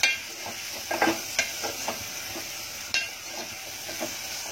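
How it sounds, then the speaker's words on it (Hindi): Prawns fry with onions in a pan, a steady sizzle under scattered stirring scrapes and light utensil taps against the pan. "दो मिनट झींगे को फ्राई करने के प्याज के साथ"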